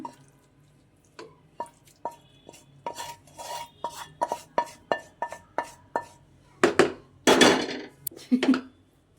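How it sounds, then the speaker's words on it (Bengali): Fried rice being tossed and mixed with vegetables in a pan, a quick run of close metallic spatula scrapes and clanks that speeds up toward the end, with no voices. "এখন আমি এই যে রাইসের সাথে ভেজিটেবলসটাকে সুন্দর করে মিক্স করে নিব"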